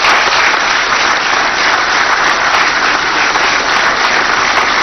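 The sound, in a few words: audience applauding at a ceremony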